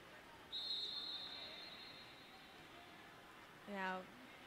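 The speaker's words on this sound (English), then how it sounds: "was that the jam starting whistle? What was that whistle?" A referee's whistle at a roller derby bout sounds a long, steady, high-pitched blast, followed a few seconds later by a shorter, lower trilling whistle, both slightly distant in a noisy hall.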